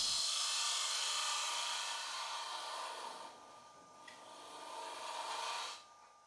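A Robert Sorby Turnmaster high-speed steel cutter turning wood on a lathe, a continuous hissing, rasping cut that fades midway, swells again and then stops, close by and with no speech.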